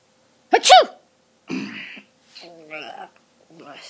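A sharp, loud sneeze up close, followed by a few brief voiced sounds and murmurs.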